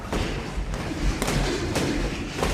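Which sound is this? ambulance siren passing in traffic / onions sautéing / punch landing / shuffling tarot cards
punch landing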